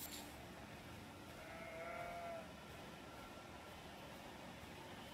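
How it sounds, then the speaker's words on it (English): Faint sheep bleating in the game Elden Ring, one wavering bleat rising briefly out of a low ambient hiss, distant and quiet. "Not you, you stupid sheep."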